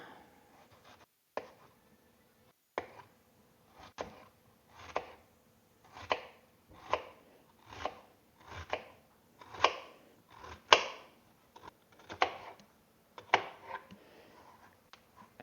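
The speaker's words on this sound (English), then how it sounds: "I'm just going to cut some slices in my onion" Knife slicing an onion on a cutting board, a series of about a dozen crisp, evenly paced chopping cuts with short quiet gaps between them, close and moderately loud.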